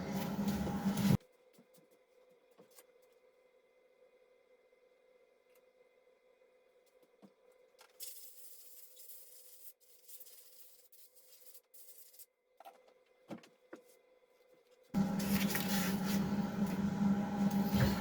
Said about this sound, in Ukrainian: Оцю штуку зараз мию, корпус повітряного фільтра, щоб зона чистого повітря була чистою.